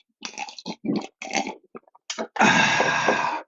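A voice imitates messy eating and drinking noises close to a microphone: a run of short wet smacking and gulping bursts, then a longer loud slurping, burp-like rasp near the end.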